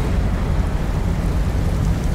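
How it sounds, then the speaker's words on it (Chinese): Rain falls outside in the God of War video game, heard as a thick, constant rushing wash with a deep low rumble beneath it, loud and unbroken. "外面居然下雨"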